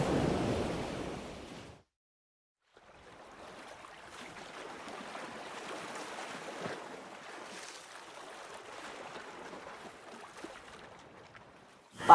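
Sea waves wash along the Kerala coast, a steady low surf rolling in at moderate distance with wind over the microphone, continuing without pause after a brief gap of near silence.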